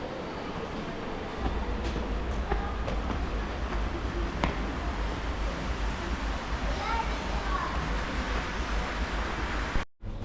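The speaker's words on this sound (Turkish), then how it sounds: "Asansöre bindim. Dördüncü kata doğru çıkıyorum şimdi." A hostel elevator rises toward the fourth floor with a steady low mechanical rumble and hum, a few faint clicks and knocks on top, ending in an abrupt stop; speech is present during the ride.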